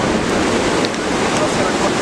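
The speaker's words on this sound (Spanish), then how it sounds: "Aquí nos divide el río Pujolito." Pujolito river flowing outdoors at the border of Ciudad Bolívar and Usme, a constant loud rushing wash of water with no break and no clear voices over it.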